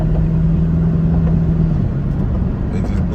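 A turbocharged Ford Crown Victoria engine rumbles near at about 2,500 RPM with a steady low hum, and a faint short turbo blow-off hiss comes near the end.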